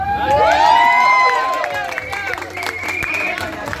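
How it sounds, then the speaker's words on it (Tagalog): A crowd at a local event shouting and cheering with clapping mixed in, loud and close, with voices calling over the noise. "Kaya naman sumigaw patlakasan niyo ang palakpak."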